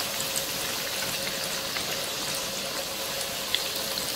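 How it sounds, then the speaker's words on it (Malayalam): Banana cutlets fry in hot oil with a steady, even sizzle and faint crackles that go on unbroken from start to finish. "അപ്പം എണ്ണ ചൂടായിട്ടുണ്ട്, അതിലോട്ട് നമുക്ക് കട്ട്ലറ്റ് ഇട്ട് കൊടുക്കാം."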